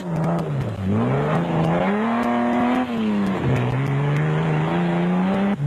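Heard from on board the Castrol Toyota Land Cruiser during a 2002 off-road race in South Africa, the engine roars loud and close, its pitch rising and dipping with gear changes and throttle, along with rattles and bumps from the rough track.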